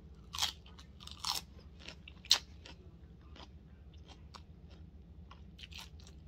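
Crunchy low-carb food bitten and chewed up close, a few sharp crunches followed by softer, steady chewing, quiet and without talking.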